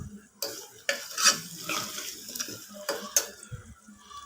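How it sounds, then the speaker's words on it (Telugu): Potatoes fry in hot oil in a pan with a soft steady sizzle, broken by scraping stirs and light knocks of a spoon against the pan, up close for a masala potato curry. "ఆలు వేసిన తర్వాత ఒక్క 2 minutes ఆయిల్లో మగ్గనిద్దాం"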